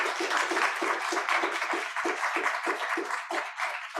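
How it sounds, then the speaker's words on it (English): Applause from an audience at a philosophy lecture, a steady patter of clapping that sounds slightly thin and distant and continues evenly for several seconds. "A round of applause for him again"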